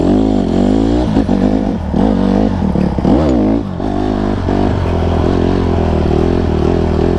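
A Honda CRF150RB dirt bike engine runs loud and close on a trail, idling as a steady throb with a few brief pitch rises and dips throughout, with no voices.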